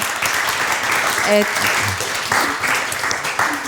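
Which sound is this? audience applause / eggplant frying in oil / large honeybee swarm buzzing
audience applause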